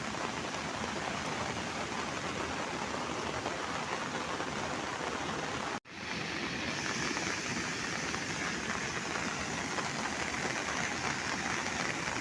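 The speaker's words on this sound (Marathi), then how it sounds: "हा बघा पुन्हा पाऊस झाला आता" Steady, dense rain falls over a Konkan village in July, a close, even hiss with no talk, broken by one brief dropout midway before resuming unchanged.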